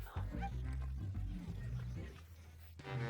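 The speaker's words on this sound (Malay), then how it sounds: "Anjing kita Chloe" Pet dog Chloe barks and whimpers in a series of short yips and whines close by in a home kitchen, with people talking over the sounds.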